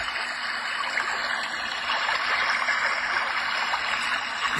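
Babbling brook setting on a HoMedics white noise sound machine: a continuous trickling, gurgling stream of water with small bubbly flutters, steady and fairly loud, no voices.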